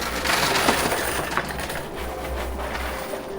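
Quarters clatter and jingle continuously in a high-limit casino coin pusher machine, a dense metallic rattle of coins dropping that runs steadily throughout at close range, with no talking.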